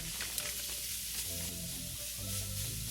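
Veggie crumble sizzles steadily as it browns in a hot pot, a continuous close frying hiss with a faint hum running underneath and no talking.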